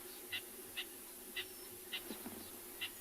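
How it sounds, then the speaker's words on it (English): Birds call faintly in the distance on an early-morning safari at Tswalu, short bright chirps repeating at a steady, spaced rhythm over a quiet, low background hum. "You can hear some birds calling off towards the right"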